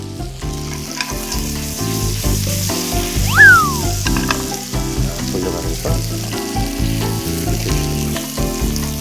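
Stuffed squid pan-fries in a mix of butter and oil, a loud, close sizzle that crackles steadily while it is turned; a person speaks briefly over it.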